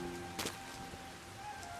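Rain falls in the Hidden Forest of the video game Sky: Children of the Light. It is a soft, faint, steady patter with a brief sharper drip splash, and no one is talking.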